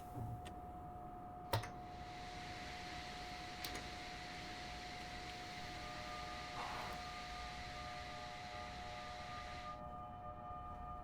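An ALP-46 electric locomotive starts up in the Train Sim World 6 game, giving a faint, steady electric whine and hum with a few sharp clicks, and no talking.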